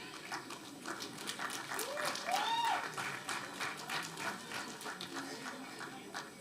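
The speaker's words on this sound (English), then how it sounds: "The claps must not stop, everyone." Scattered, fairly quiet clapping from an audience at a certificate ceremony, ongoing and uneven, with indistinct voices and a brief cheer or whoop mixed in.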